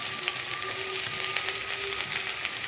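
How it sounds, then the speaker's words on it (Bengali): Potatoes fry in hot oil with salt, turmeric and chili powder, giving a continuous dense sizzle and crackle at an even level from start to finish with a faint steady hum underneath. "আলুগুলো লাল লাল করে ভেজে নিতে হবে।"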